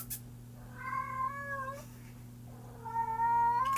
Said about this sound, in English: Alley cat.